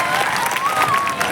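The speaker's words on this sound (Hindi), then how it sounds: "जोरदार तालियां।" An audience at a Hindi poetry gathering breaks into loud, brief applause mixed with crowd noise and a few voices calling out.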